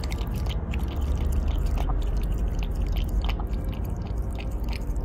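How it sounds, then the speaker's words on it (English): Wet, crunchy mastication from a dog continues in irregular close bites and smacks, steady throughout and set against a low droning background, with no voices. "More chewing."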